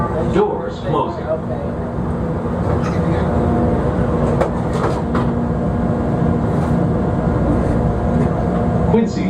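An elevated Chicago CTA Orange Line train rumbles steadily along the tracks through the Loop with a continuous low roar and occasional clanks and squeals; voices can be heard faintly beneath it.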